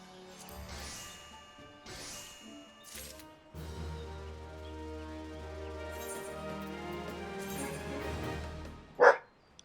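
A dog barks in Final Fantasy XIV Heavensward: a few short yaps early on, then one louder bark near the end, set against sustained in-game music.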